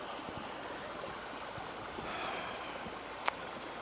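Heavy rain falls steadily at a riverside campsite, a dense, even hiss of water with a brief sharp knock near the end and no voices.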